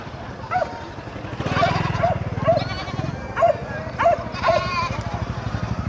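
Goats bleat repeatedly at an outdoor livestock market in northwest Vietnam, several short wavering calls over a steady crowd and engine rumble, with people talking in the background.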